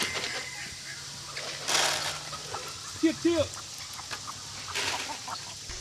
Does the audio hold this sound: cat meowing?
no